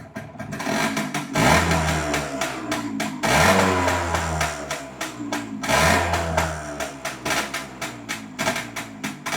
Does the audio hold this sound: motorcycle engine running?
yes